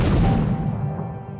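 A cannon fires in a Roblox game, one loud, deep boom that fills the whole moment and fades slowly, with no voices over it.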